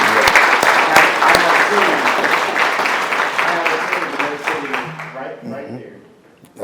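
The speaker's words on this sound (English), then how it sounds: "So let's give a round of applause to the whole team." Audience applause at the 2023 MBA Hall of Fame ceremony in Wichita, Kansas. Hearty clapping swells at the start, slowly fades over several seconds, and gives way to a speaker's voice near the end.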